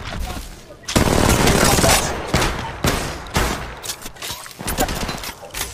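Rapid bursts of automatic gunfire and overlapping shots from the mobile game Apex Legends Mobile fill the clip, loud and dense, stopping and starting in quick volleys.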